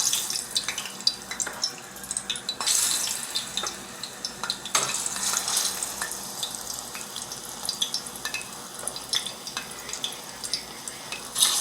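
Chicken wings dropped into hot oil to brown, a steady crackling sizzle with stirring scrapes and occasional sharp pops, close and fairly loud with no talking.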